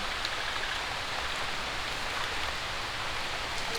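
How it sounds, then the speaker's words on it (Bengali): Steady rain falls outdoors in a dense, even hiss of countless drops hitting surfaces, constant and fairly close with no voices. "আবারও বৃষ্টি চলে এসেছে"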